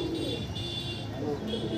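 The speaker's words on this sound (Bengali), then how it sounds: "দেখো দাদা নেক্সট দুটো মেল পায়রা আবার এসেছে" Male pigeons coo in a loft, a steady run of soft, low, throaty calls lasting the whole moment, fairly close, with a faint murmur of background noise.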